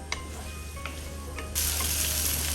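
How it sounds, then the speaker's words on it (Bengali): Prawns sizzle as they are stirred and fried in a pan, a steady hiss with light scraping that grows noticeably louder and fuller about halfway through. "এখন আমি ভালো মতো করে 1 থেকে 2 মিনিট একটু নাড়াচাড়া দিব ভিউয়ার্স"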